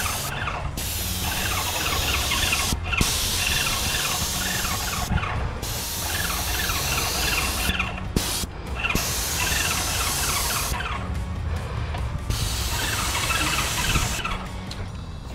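A paint sprayer coats a house exterior with a loud, steady hissing spray that keeps running in long bursts, broken by several short pauses and a faint squeal, and no voices.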